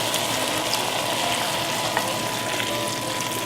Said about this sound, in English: now it's time to add the full cup of whole milk